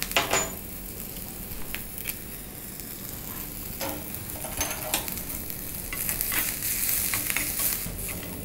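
Curry leaves and asafoetida sautéing in a pan for ragi semiya idli, a close, continuous crackling sizzle broken by sharp stirring clinks and scrapes.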